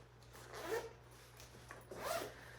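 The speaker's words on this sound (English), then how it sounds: "it has an extension pocket that if you unzip it," Zipper of a carry-on bag's extension pocket being unzipped, two quiet rasping pulls close to the microphone over a faint steady hum, with no talking.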